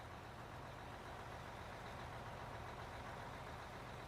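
Trucks idle in the mining video game Out of Ore, a steady, even engine drone with a hiss over it and no clear changes, held at a low level throughout.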